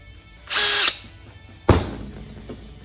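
A drill-driven reamer cuts the end of a brake tube for a 1946 Ford, giving a short close whir, then a clunk and a fading rattle afterward.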